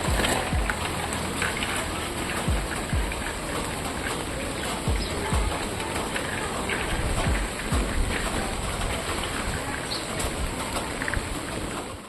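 Steady rain falls outdoors while a child rides a bicycle in a raincoat, a dense, even hiss of drops on surfaces running throughout with no talk.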